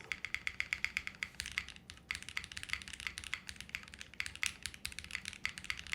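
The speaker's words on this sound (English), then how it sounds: "That's a good sounding spacebar too." Rapid clacking keystrokes on a JRIS65 mechanical keyboard, close and crisp, with deeper thocks from the spacebar mixed into a steady typing rhythm and a brief pause partway through.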